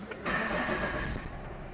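A 2012 Volvo XC90 engine cranks briefly then catches and settles into a steady running hum, heard close with a faint whine over the motor.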